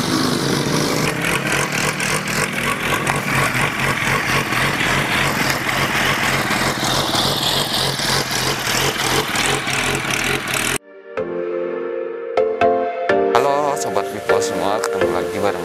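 Yamaha R1 1000cc motorcycle engine running at idle with a rough, uneven pulsing, loud for most of the stretch, then briefly cut off before resuming with sharp blips.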